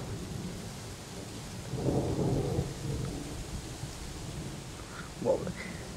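A thunderstorm in Norway rumbles with low rolling thunder that swells near the middle, while steady rain hisses throughout and a few sharper crackles come near the end.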